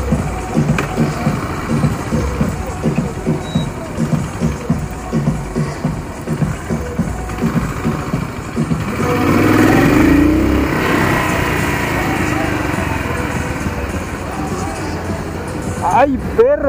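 A motorcycle engine runs steadily close by, rising in pitch and loudness midway as it revs, with people talking over it.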